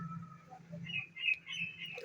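Pet pigeons in a home loft give off faint, soft calls and chirps, with a low murmur beneath a few brighter notes. The sounds are quiet and continuous, with nobody speaking.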